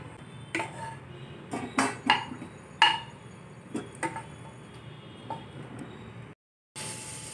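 Cooked ivy gourds are scooped onto another plate with a few irregular clinks and scrapes of a utensil against the dishes. The taps are close and fairly light, and the sound drops out briefly near the end.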